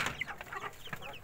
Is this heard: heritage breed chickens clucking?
yes